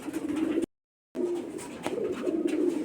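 A female Rajshahi Giribaz pigeon coos softly while being held, a low repeated throaty call close by, briefly cut to silence partway before the cooing resumes.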